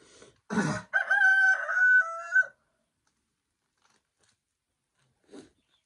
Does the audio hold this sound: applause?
no